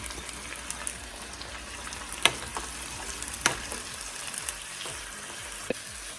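Shredded cabbage and onions sauteing in a pan, a steady soft sizzle with a few sharp clicks of stirring, fairly quiet and close, no voices.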